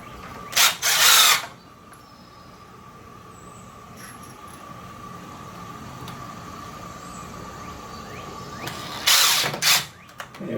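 A power drill drives screws into a louvered sliding wall for a garage door, with two brief close bursts of whirring, one near the start and one near the end, separated by quiet room tone.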